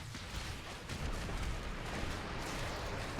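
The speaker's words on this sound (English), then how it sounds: "Do the explosions bother me?" Dense, continuous rumbling blasts and bursts from spell effects in Diablo 3 Reaper of Souls, a hardcore Crusader battle, forming a steady loud wash of explosions with no distinct gaps.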